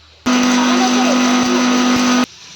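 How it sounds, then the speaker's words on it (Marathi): A mixer grinder grinds homemade garam masala into powder with a loud, steady whirring roar that starts abruptly, runs about two seconds, and cuts off. "त्याला बारीक करून घेऊया"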